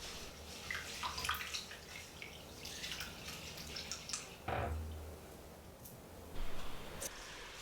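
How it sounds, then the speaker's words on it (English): Quiet swishing and splashing of cold water in a bowl of multigrain and black rice, with soft rustling grains and occasional drips and clunks, close and faint. "Use cold water and start washing the rice."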